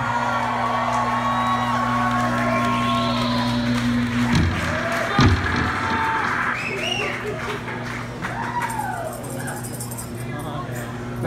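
Live rock concert crowd at a show in San Francisco, a dense sustained roar of cheering with scattered high whoops and yells, loud and continuous under a steady musical drone, with brief talk.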